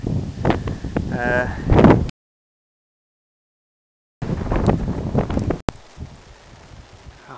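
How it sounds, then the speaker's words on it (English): Gusty wind buffets the microphone outdoors in a sunny English village churchyard in loud rumbling blasts, cut by a stretch of silence, with a voice speaking briefly at the start. "Sun's out, but it is very windy."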